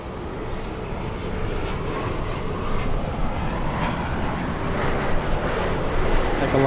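An Airbus A220 airliner flies past at Los Angeles airport, a sustained broadband engine roar that swells slightly and stays steady, fairly close, with no talk over it.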